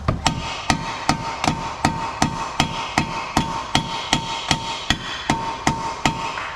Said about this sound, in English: at this point if you start whacking it like that, it will come down